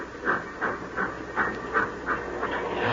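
Steam locomotive effect for an old-time radio drama about a freight train, with rhythmic chuffing puffs repeating about every third of a second over a steady hiss, moderately loud with no voices.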